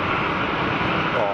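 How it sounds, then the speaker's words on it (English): Jet airliner landing at Geneva Airport with thrust reversers deployed, a broad, steady roar of engine noise heard from a distance for a short stretch. "nice reverser action"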